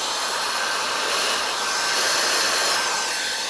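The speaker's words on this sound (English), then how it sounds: "let's show you guys the vacuum setting with the air stuff" A cordless air duster and car vacuum cleaner runs on its vacuum setting with a steady, close, loud motor whir and airflow hiss that holds evenly for the whole stretch, with no talking.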